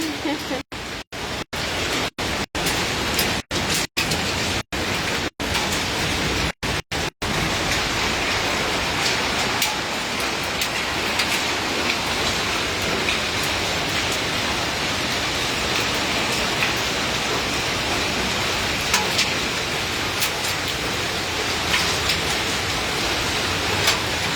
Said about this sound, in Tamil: ஐஸ் மழை பெய்யுது